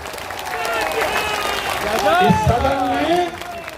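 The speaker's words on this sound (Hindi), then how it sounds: "बजाइए जोर से ताली" A large audience at a political rally in Patna claps and cheers, a loud continuous wash of crowd noise with a voice calling out above it.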